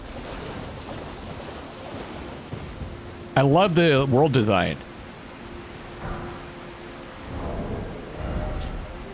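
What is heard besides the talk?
rain falling in video game Elden Ring: Shadow of the Erdtree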